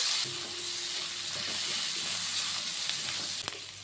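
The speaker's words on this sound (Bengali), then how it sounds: "এই তেলের মধ্যে দিয়ে দেবো পেঁয়াজ কুচি আর দেবো কিছুটা কাঁচা লঙ্কা পেঁয়াজ আর লঙ্কাটাকে একটু ভেজে নেবো" Chopped onion and green chillies frying in hot oil for an egg and potato curry, a steady close sizzle with a faint hum and a few soft stirring clicks, no voices.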